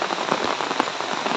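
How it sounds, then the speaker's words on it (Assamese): Heavy continuous rain during prolonged monsoon downpours in Assam pours steadily onto surfaces, a dense, even hiss of countless drops close by with no voices. "কালি সন্ধিয়াৰ পৰা যি বৰষুণ আৰম্ভ হ'ল এৰাই নাই"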